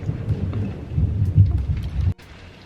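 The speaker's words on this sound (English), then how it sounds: "I just realized how much it was raining right now. It's like really, really heavy." Heavy rain pours steadily as a dense, loud roar with low rumbling, cutting off abruptly near the end.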